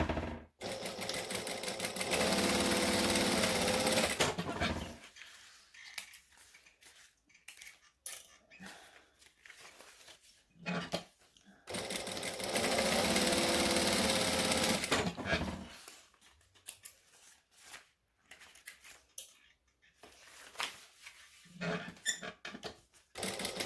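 A home sewing machine topstitches fabric about an eighth of an inch from the edge in two long, loud continuous runs, with quieter handling clicks, trimming snips and brief gaps between them.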